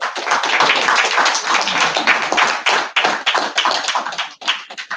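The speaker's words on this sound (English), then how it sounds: "give him a round of applause" Audience applause at an honoring ceremony for a coach, a loud, dense round of clapping that holds steady and then thins with a few scattered claps near the end.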